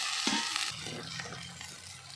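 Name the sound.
sautéing chopped onions in a pan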